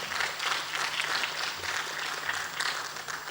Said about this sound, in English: If you like, you may applaud.